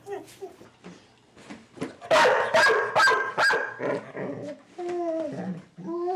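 A dog barks repeatedly up close in a string of sharp, loud barks mixed with whining, howl-like cries, broken by short pauses.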